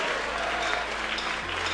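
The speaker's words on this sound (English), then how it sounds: "That is even good to clap." Indoor audience applause during a speech on holding public officials accountable, a steady dense wash of many hands clapping at once, fairly loud and continuous throughout.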